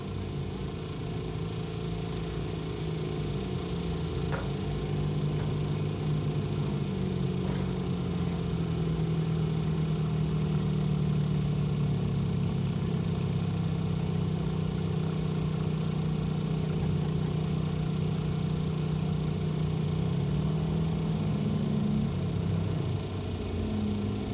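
Bone stock race cars run at Grand Bend Speedway, their engines a steady distant drone that rises and falls as they circle the track for the whole stretch.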